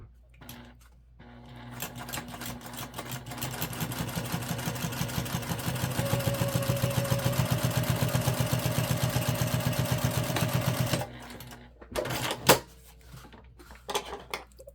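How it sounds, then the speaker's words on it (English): A sewing machine runs in one steady, fast stitching burst of about nine seconds, joining the short edges of a crossbody bag panel. Brief handling clicks and rustles come before and after the run. "We're going to sew."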